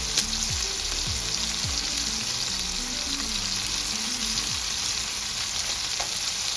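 A ribeye steak pan-searing with fresh rosemary gives a loud, steady sizzle and crackle of frying fat, continuous and close, with no talking.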